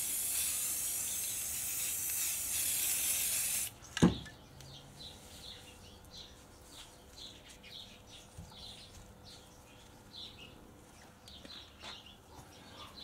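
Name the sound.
spray paint sprayed onto hessian cloth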